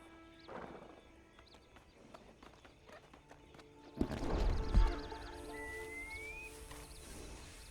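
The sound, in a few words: horse riding in video game Red Dead Online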